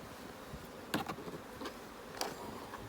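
Honey bees buzz steadily around an open hive box at an apiary, a close, continuous hum with a few louder passes as individual bees fly near.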